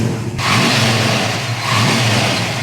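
A 1970 Plymouth 440 V8 swapped into a Plymouth Cuda revs loudly and close, a rough throaty roar swelling after a brief quiet start and holding steady to the end.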